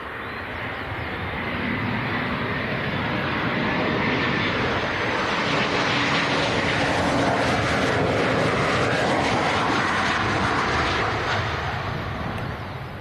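A German Airways airliner arriving at Leeds Bradford Airport, a broad engine roar building steadily and holding loud and close for several seconds before easing slightly.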